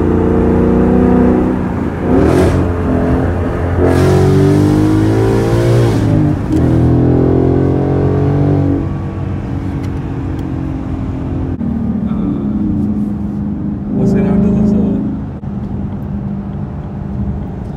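A 2018 Mustang GT with a Corsa active exhaust accelerates in loud, close bursts, its engine note rising and falling through several revving pulls with brief lulls between.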